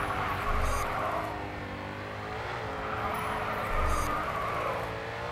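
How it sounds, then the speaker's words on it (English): Touring car drifting in the racing game Grid 2, a steady loud engine drone with rising and falling pitch as it revs through a slide, tire noise mixed in, continuous and close with no talk. "Smooth drift."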